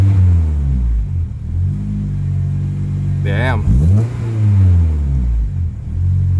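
A car engine with a Yonaka catback exhaust revs up and drops back from inside the cabin, a deep throaty exhaust drone with one sharp climb in pitch as VTEC engages; a voice talks briefly.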